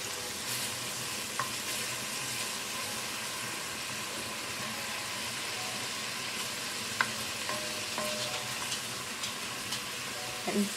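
Garlic sizzles in a pan as the base for a vodka sauce, a steady close frying hiss with occasional small pops and clinks and no speech.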